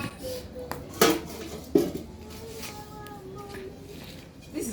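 Metal pot lid set onto a soup pot during village cooking in Africa, giving two distinct clanks with a brief ringing, followed by softer clinks of cookware against a quiet background.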